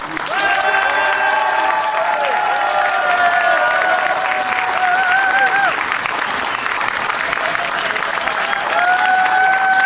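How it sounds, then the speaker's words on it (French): Outdoor festival crowd at a troubadour tournament in Gruyères applauding loudly and continuously, a thick roar of clapping mixed with cheers and whistles that stays strong for the whole stretch. "si vous voulez que les Chelmery soient au deuxième tour, je vous demande d'applaudir maintenant"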